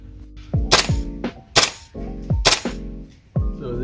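A King Arms TWS-9 airsoft gun fires BBs, overhopping: several loud, sharp reports spaced about a second apart, each followed by a brief mechanical whir and rattle, close to the microphone.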